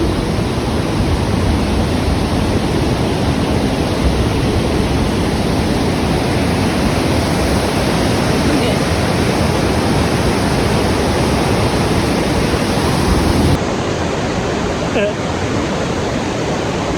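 Glacial rapids in New Zealand rush with a steady, dense roar that fills the whole clip at a constant loud level, easing slightly near the end.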